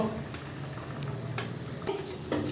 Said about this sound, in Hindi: चम्मच की मदद से इस तरह हमने हिला लेना है